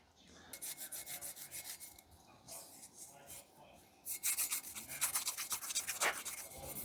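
Emery cloth rubbed by hand over engine shaft savers from a 6-71 supercharger on an LS build, quick scratchy back-and-forth strokes in bursts, growing busier and denser toward the end.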